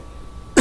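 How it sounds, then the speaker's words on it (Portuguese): A single short cough bursts out at the very end after quiet room tone, close and fairly loud. "Essa tosse."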